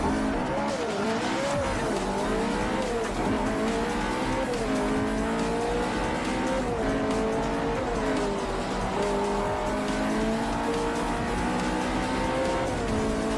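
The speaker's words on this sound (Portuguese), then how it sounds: "Se você gosta de jogos de corrida, Forza Motorsport 4 é um dos melhores simuladores" Racing cars in the video game Forza Motorsport 4, a continuous engine roar with rising and falling revs and tire squeal, loud and steady throughout.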